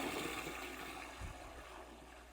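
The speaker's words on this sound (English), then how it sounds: "And a long press would do a full flush." Full flush of a Flexi non-electric toilet, a steady broadband whoosh of rushing water with a low gurgling surge partway through, close and moderately quiet, fading slightly toward the end.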